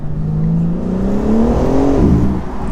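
A 2020 BMW M4 Competition engine revs up with a rising exhaust note, then drops back as it shifts, loud and close.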